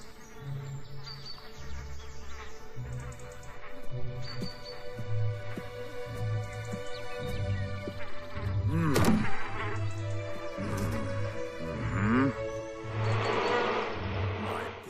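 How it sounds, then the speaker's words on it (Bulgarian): Bees buzzing close by, a droning hum that rises and falls in pitch with several short pulses and a few knocks, no speech. "Работливите ми пчелички."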